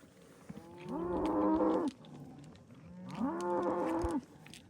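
A cow that has just calved on a desert ranch moos twice, each low, drawn-out call lasting about a second and carrying strongly over quiet outdoor background, with a pause between them.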